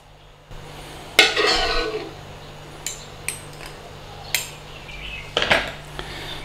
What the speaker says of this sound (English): let's just carry on scooping out some of this meat mixture and leaving that really thick meaty gravy behind